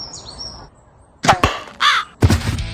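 Crows give several harsh, scratchy caws in a loose rhythm, loud and close, following a quiet stretch with a faint high chirp at the start.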